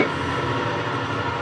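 A power saw cuts through a wooden fence picket for a beginner bird feeder build: a loud, steady whining roar that holds unbroken for about a second and a half.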